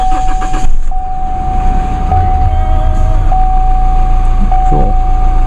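A pickup truck's engine cranks and catches, then settles into a steady running hum, with a persistent electronic beep tone repeating over the engine noise; no talking.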